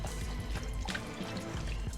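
Water with a little vinegar runs and splashes steadily while Cornish hens are washed. The sound is close, dense and continuous, with a low rumble under it.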